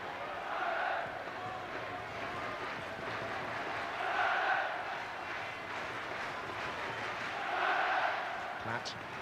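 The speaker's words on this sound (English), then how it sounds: "That's an ironic cheer from the home contingent of supporters" A home crowd of football supporters gives an ironic cheer during an England versus Republic of Ireland Euro qualifier, heard as distant swelling roars rising and falling in several waves across a large stadium.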